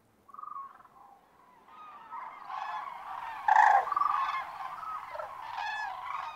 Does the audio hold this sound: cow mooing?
no